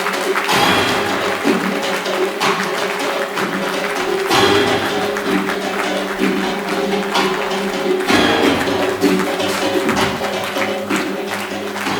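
Sustained applause from wedding guests welcoming family members into the hall, steady and dense over music, with no break.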